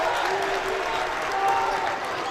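A packed high school boys basketball gym crowd with student sections on both sides cheers and applauds in a steady roar, loud and sustained, with a voice talking faintly within it.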